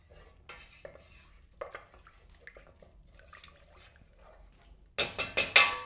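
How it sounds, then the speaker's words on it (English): Spices being stirred into a Christmas Smoking Bishop punch mixture: faint scattered clinks and scraping for most of the clip, then a burst of several louder, close stirring knocks and clatters near the end. "We're gonna mix it up."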